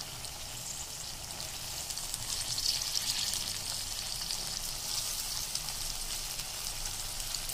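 Peas frying in oil in a pan for veg biryani, a steady bright sizzle with a soft crackle that holds evenly throughout, close up, with no talking.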